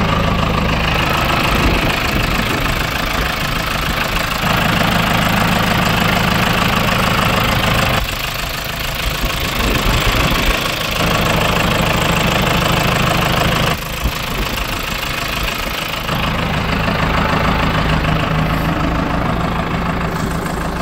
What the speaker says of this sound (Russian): На данном погрузчике стоит мотор Perkins.